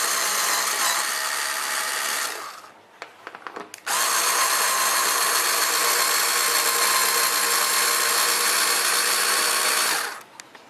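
A power tool unscrewing bolts from a Kawasaki KLR250 motorcycle rack, a loud steady high whine for about two seconds, a short pause with clicks, then a longer continuous run that winds down near the end.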